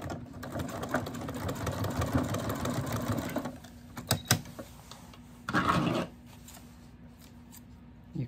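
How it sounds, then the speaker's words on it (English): A sewing machine stitches across a coiled rope for a small rope bowl, running steadily and close for about three seconds, then pausing, with a few clicks and a second short burst of stitching before going quiet. "we're going to start sewing right across that"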